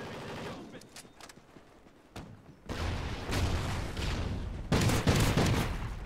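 Shotgun blasts and other gunfire in Call of Duty: Ghosts multiplayer, coming as sharp separate bursts that build into louder, denser volleys toward the end.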